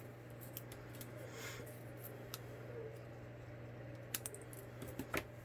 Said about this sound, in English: let me go ahead and snip that